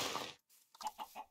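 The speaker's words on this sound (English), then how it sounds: "Ooh, chicken!" Chicken clucks from the Minecraft video game: three short, soft clucks in quick succession after a brief burst of noise and a gap.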